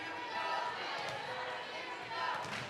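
Cheering spectators fill a high school volleyball gym during Wakefield versus Beverly, a steady roar of crowd noise with a few brief knocks and voices blended in.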